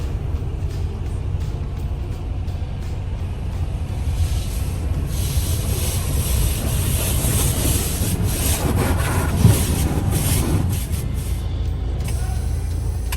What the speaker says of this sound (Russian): Моют щеткой, используют напор воды, чтобы все смыть, и смывают чистой водой.